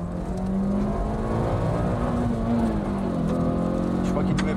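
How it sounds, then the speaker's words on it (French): A motorcycle speeds past on a motorway, overtaking on the right, heard as a steady loud engine roar with a slowly shifting tone over nearly five seconds. "c'est une moto qui vient de passer à grande vitesse."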